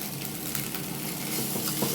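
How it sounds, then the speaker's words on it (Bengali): Fried vegetables being stirred into leftover rice in a pan make a steady sizzle, close and fairly loud, with faint scraping of the stirring running through it and no talking. "সবজিটি বেশ ভাজা ভাজা হয়ে গেলে এবার আমি মিশিয়ে দেব আমার এই রাখা ভাত।"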